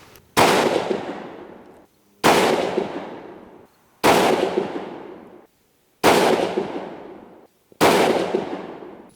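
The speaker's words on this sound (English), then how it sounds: "Here we go, single loading the 87s." Five loud, sharp rifle shots from a 6mm Creedmoor Howa 1500, single-loaded, fired slowly at roughly two-second intervals, each blast ringing out and decaying across the open range.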